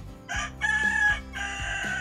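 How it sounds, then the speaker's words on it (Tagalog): A rooster crows near a shore at night in the Philippines, giving a clear, moderately loud call with a rising, drawn-out tone and a fainter second crow following. "Yun, manok."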